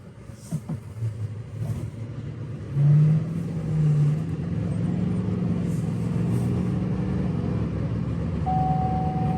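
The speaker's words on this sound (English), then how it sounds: "We're about to go for the first test drive." A Duramax L5P diesel pickup truck fitted with a Stealth tuning module accelerates on a test drive: a steady, loud low engine rumble that rises in pitch and swells as the throttle opens, heard from inside the cab with no talking.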